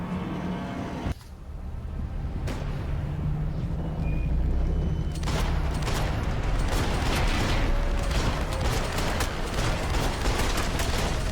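Gunfire in Max Payne 3, with steady bursts of shots over engine-like rumble and mechanical noise that grow denser and louder through the second half.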